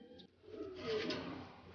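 A racing pigeon coos softly, a low, faint murmur close by in a quiet space.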